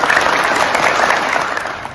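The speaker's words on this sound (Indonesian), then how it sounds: "Tepuk tangan untuk kalian." Pupils in a classroom science lesson break into loud, dense applause that stays full and continuous, tapering slightly toward the end.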